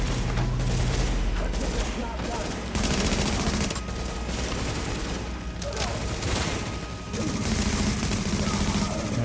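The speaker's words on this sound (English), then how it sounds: "So, that shooting, that was you, right?" Sustained automatic gunfire in the video game Tom Clancy's The Division, dense rattling bursts and booms filling the whole stretch, loud and continuous with players' voices faintly mixed in.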